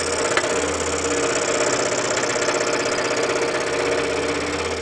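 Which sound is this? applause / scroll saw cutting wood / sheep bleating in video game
scroll saw cutting wood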